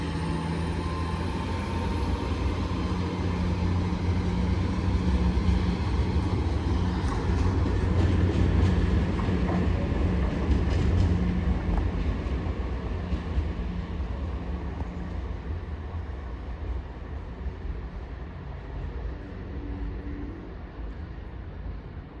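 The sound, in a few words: Class 802 train departing station for Scarborough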